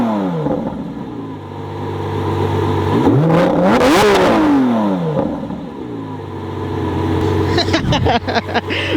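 Lamborghini Aventador SVJ V12 engine revving hard while driving, a loud sustained roar climbing and falling through the gears with a sharp peak midway and crackling on the overrun.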